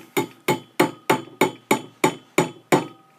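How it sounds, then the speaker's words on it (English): A hammer drives a nail into a wine cork with ten sharp, evenly spaced blows, each a crisp close knock with a quick decay, with no speech. "the internet tells me that all I need is a hammer and a nail"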